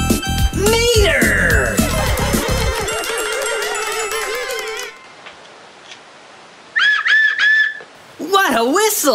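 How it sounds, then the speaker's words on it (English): A loud cartoon whistle blows in a children's toy-surprise cartoon, giving bright warbling, sliding tones in bursts, then a quiet pause before shorter chirpy whistle notes and a final warble. "What a whistle!"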